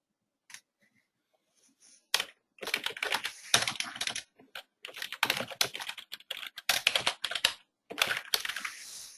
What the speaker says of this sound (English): And I can also type in the document